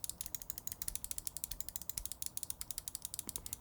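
Rapid, evenly spaced Xtrfy M4 gaming mouse main button clicks, sharp and close, repeating steadily throughout with no talking.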